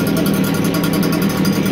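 A Stihl gas leaf blower engine runs close by, a loud, steady buzzing drone with a fast throbbing pulse and no pauses.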